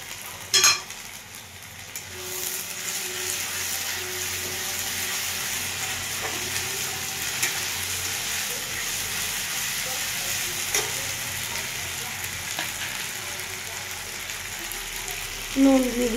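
Spices sizzling in hot oil in a pan, a continuous close hiss and crackle with a few louder clanks of a utensil near the start and end, and no talking over it.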